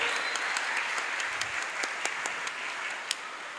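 An outdoor crowd at an Indonesian Independence Day flag ceremony applauding the flag-raising troop, a steady spread of many clapping hands at moderate volume with a few sharper individual claps standing out.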